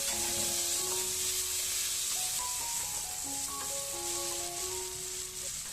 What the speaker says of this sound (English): Mix it all together and saute it for another few seconds.